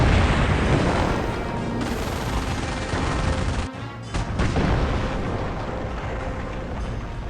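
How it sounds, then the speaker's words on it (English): A 25-pounder artillery barrage in Company of Heroes Mobile rumbles as a dense, continuous wall of booms and explosions, loud and sustained, with a brief dip midway before the bombardment rolls on. "25-pounder artillery barrage. And it's gonna be a huge attack, you will see now"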